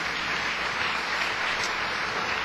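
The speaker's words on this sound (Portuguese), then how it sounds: "Quem pode dar uma salva de palmas para o Senhor?" A congregation applauding during a church sermon, a steady, dense wash of clapping that holds evenly throughout, moderately loud with no talk.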